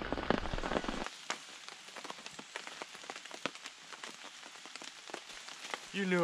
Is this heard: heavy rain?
yes